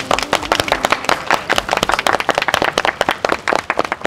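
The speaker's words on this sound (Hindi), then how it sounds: "तो तालियां" Close, lively clapping from a small group of hands at a school kite competition on Independence Day, rapid uneven claps continuing without pause for a few seconds.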